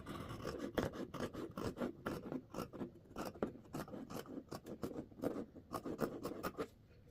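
Pen or marker drawing a baby mitten pattern outline onto two layered pieces of fabric, a quiet series of short scratchy strokes in an uneven rhythm, close and alone.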